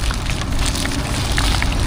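Heavy rain falls and patters on surfaces in a dense, steady hiss, loud and close, with scattered individual drop impacts throughout.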